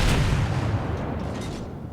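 High-explosive shells striking a US Navy Colorado battleship in World of Warships, a heavy booming impact with deep rumble that fades gradually over about two seconds.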